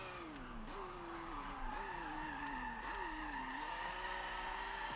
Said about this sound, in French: elle drifte bien cette voiture